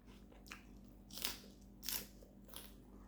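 Crispy fried food is bitten and chewed with four sharp, close crunches spaced about a second apart over a quiet background, with no talking.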